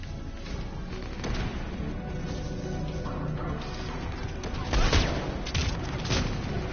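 Rapid gunfire and booming impacts from a shooter video game, a dense continuous barrage with heavier blasts near the end, under a player's voice.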